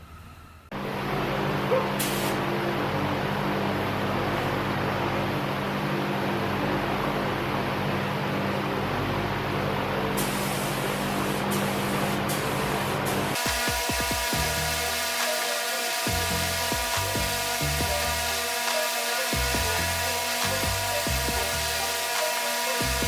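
Spray gun laying clear coat onto a refurbished Sunoco oil pump, a steady continuous hiss that runs loud and unbroken, then gives way to an uneven, choppy spray with short bursts and pauses.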